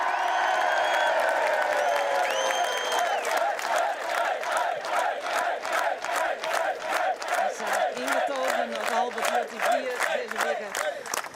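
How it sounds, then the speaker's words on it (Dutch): Crowd at a skûtsjesilen sailing race event in Sneek cheering, then breaking into loud rhythmic clapping in unison, with shouts and voices mixed in. "ik wil wel even ontzettend groot applaus voor de nummer hier van het klassement"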